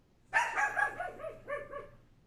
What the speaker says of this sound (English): Is that dog giving you tips and suggestions?